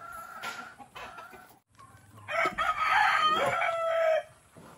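A chicken clucks and crows nearby on a farm, with a louder burst of calls in the second half, no talking.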